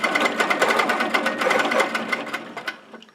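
An HQ Capri 18 sewing machine running with its stitch regulator engaged, a close, rapid needle chatter of even stitching that slows and trails off near the end.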